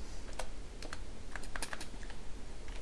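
Fingers tapping out code on a computer keyboard make rapid, uneven clicks close by, a continuous run of light keystrokes with short bursts and brief gaps, no speech.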